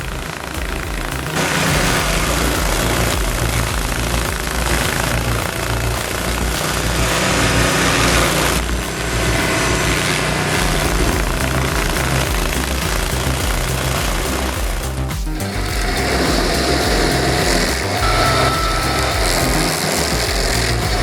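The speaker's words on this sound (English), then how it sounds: "The Carlton 4012 Stump grinder, with 52 pound-feet of torque, smoothly grinds down a massive 60-inch stump with precision and ease." A Carlton 4012 stump grinder chews into a large 60-inch tree stump with a loud, steady roar of engine and cutting wheel. Dense grinding noise holds throughout, with a brief dip partway through.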